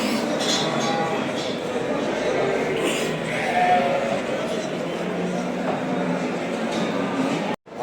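Sheep bleat amid the steady hubbub of Aksaray's crowded livestock market, where lambs and ewes are traded; voices talk over the animals throughout, and the din continues almost unbroken before a sudden brief drop near the end.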